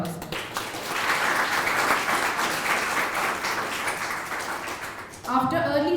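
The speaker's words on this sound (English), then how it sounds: "I think it requires a big round of applause." An audience at a journalism and mass communication seminar applauds steadily for several seconds, a dense wash of clapping, before a voice begins speaking at the end.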